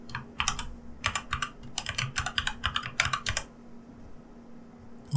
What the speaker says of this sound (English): So I'll just type in an email address.